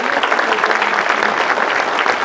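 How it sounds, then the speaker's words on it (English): Town hall audience giving a big round of applause for a speaker, dense continuous clapping from a crowd filling the room, loud and steady throughout. "big round of applause for Kim McBride"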